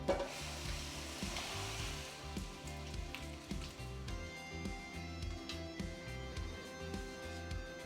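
A spice, onion, garlic and ginger seasoning for dal makhani hits a hot pan, giving a faint sizzle with some stirring and utensil knocks over a low background hum.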